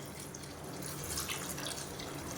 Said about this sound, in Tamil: இப்போ இதில் வந்து தேவையான அளவு தண்ணி சேர்த்துக்கலாம்